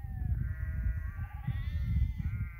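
Sheep bleat outdoors on open high ground, one drawn-out wavering call fading in and out over a strong, steady rumble of wind.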